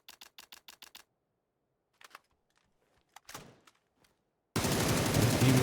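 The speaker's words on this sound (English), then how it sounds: "You can make it so that way the gun doesn't really go up at all from the moment you start shooting." Gunfire in a shooter video game: a rapid burst of six sharp shots, then scattered isolated shots and a louder crack with a trailing tail, followed by a sudden sustained dense blast of noise at the end.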